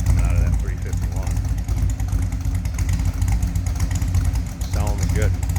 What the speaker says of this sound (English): Nice little rumble coming out of that 351.